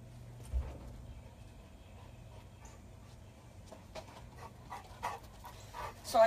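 A dog pants softly at close range, quick breathy puffs with a few whimpering or yipping touches and occasional louder bursts toward the end, in an otherwise quiet indoor space.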